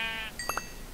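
Two short sheep bleats from Minecraft (version 1.14) follow a fading tonal game sound, close and clear with no talk.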